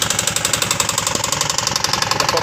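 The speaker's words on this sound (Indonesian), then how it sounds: "apa saja yang diakibatkan dari suara kasar ini" A 2019 Honda Beat scooter engine runs close by with a rough, rhythmic knocking that repeats steadily through its loud, even idle.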